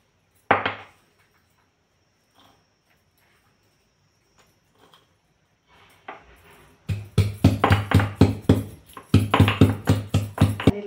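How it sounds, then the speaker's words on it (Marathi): Garlic being chopped finely on a board for tempering, a single sharp knock followed by near silence, then a fast run of rhythmic, close, crisp knife chops. "हा जो लसूण आहे फोडण्यासाठी आपण हा बारीक करून घेत आहोत."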